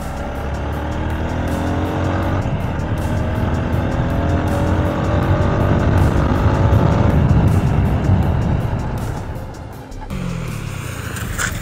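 A TVS Apache RTR 160 4V motorcycle brakes hard. A loud, continuous engine and road roar holds steady, then drops sharply near the end before a brief, quieter rumble. No one speaks.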